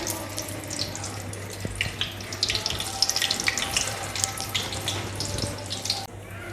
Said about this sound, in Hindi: हल्की आग पे फ्राई कर रही हूँ मैं